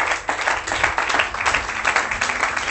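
A church congregation applauds in dense, continuous clapping that carries at an even level throughout the brief moment.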